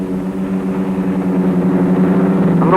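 A Westland Widgeon helicopter flying at the 1959 Farnborough Air Show, its engine and rotor giving a steady, fairly loud droning hum on old film sound that swells slightly toward the end.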